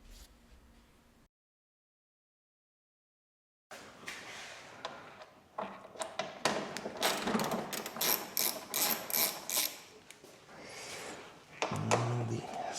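Ratchet wrench turning out bolts from a side panel of a Honda NC750X motorcycle, with rapid close clicking of the pawl in bursts after a brief silent gap, loud and alone.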